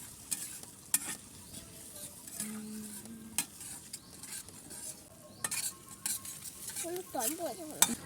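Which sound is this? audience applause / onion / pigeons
onion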